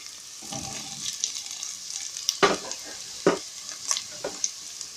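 Carrots and vegetables sizzle steadily in a pan for a meatless bolognese sauce with crushed tomato purée, broken by several sharp scraping stirs of a utensil, with no voices.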